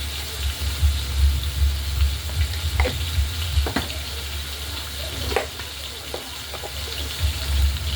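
Chili powder and salt frying in a pan on the stove, a steady close sizzle with occasional clinks and stirring scrapes.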